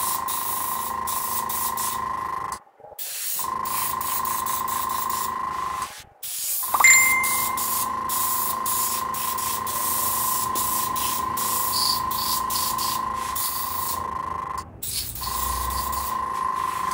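An airbrush sprays paint in a steady hissing stream, near and fairly loud, cutting off briefly twice before resuming and running on continuously.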